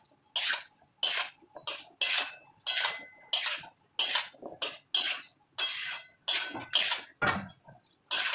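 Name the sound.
mixing fish and potatoes with spices by hand in a bowl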